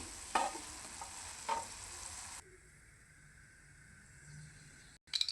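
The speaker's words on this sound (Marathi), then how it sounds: "मग आपण फोडणी देऊन घेऊया" Oil crackles and sizzles steadily in a pan as cumin and mustard seeds are tempered, with a couple of sharp spattering bursts early on, then a quieter hiss and a brief clatter near the end.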